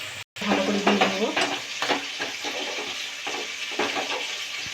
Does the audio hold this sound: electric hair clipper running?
no